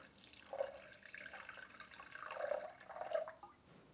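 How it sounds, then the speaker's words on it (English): About 250 grams of water is poured for a chocolate cashew smoothie, giving a faint, soft trickle and gurgle with a few swelling surges over roughly four seconds in a quiet kitchen. "So we use 250 grams of water."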